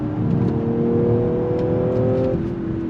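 A 2022 Audi S5 convertible braking hard and downshifting, its engine note rising in loud, close revving blips and whirring tones before dropping off near the end, heard from on board with no talk.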